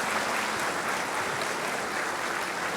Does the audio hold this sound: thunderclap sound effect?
no